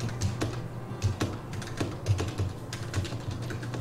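Computer keyboard keys being typed in a steady run of quick clicks to enter AutoCAD commands, close and fairly loud with no talking.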